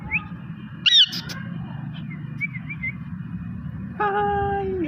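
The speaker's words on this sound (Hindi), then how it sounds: "मेरे मिट्ठू तोते" A pet parrot gives a few sharp, whistled calls, one near the start and a longer one toward the end, over a low steady background hum.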